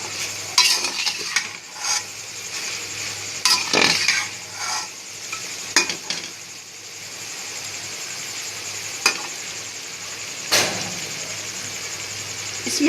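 Carrots, capsicum and cabbage stir-frying for vegetable fried rice, a continuous close sizzle broken by repeated scraping and clinking stir strokes at irregular intervals.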